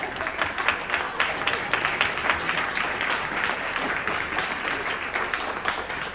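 A crowd at a Democratic Party Richmond County gala dinner claps continuously in a thick, even roar of applause that stays loud throughout, with faint voices mixed underneath.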